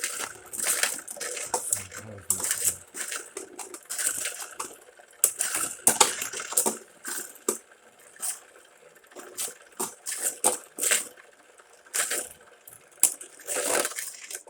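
Beyblade tops Motor Strike and World Spriggan spin and clash in a stadium, giving off repeated sharp clicks and scraping rattles in irregular bursts, fairly close and loud, with no talking.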